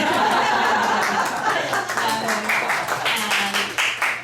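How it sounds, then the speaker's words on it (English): An audience at a mayoral forum in a library claps from the back rows, scattered applause mixed with chuckles and laughter, fairly close and fading unevenly over a few seconds. "Thank you for the applause in back row"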